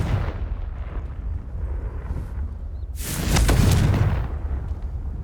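A Confringo spell from Hogwarts Legacy bursts in a loud explosion about halfway through, a booming blast that swells and rumbles for about a second over steady game background noise.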